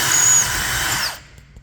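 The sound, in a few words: drilling holes for carriage bolts in arcade control panel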